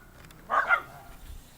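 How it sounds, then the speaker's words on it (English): A short burst of dog barking, a couple of quick overlapping barks from dogs cornering a fox outside by a grove, moderately near and otherwise quiet. "the dogs right now, because the fox has been coming by, they've actually corralled the fox"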